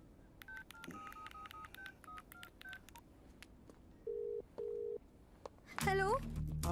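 A telephone keypad sends a quick run of dialing tones while a call is placed, followed by two longer steady tones, then a warbling ring-back signal at the end. A voice is faintly audible at times.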